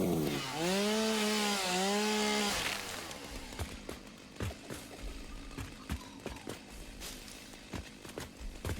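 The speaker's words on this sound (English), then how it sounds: "consequence of them making the chainsaw satisfying is the doom music kicks in whenever you take it out." A chainsaw in the video game Satisfactory revs with a loud, rising and falling whine for a few seconds, then gives way to choppy cutting noise with repeated sharp knocks.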